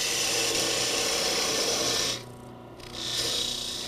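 A wooden Christmas ornament is parted down on a wood lathe, the tool giving a loud, continuous rasping scrape over a steady spindle hum, briefly easing off near the end before resuming.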